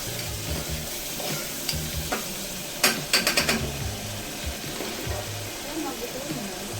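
Masala sizzling and frying in a pan as it is stirred, with a steady crackle plus a quick run of sharp clinks from the utensil against the pan partway through; no talking.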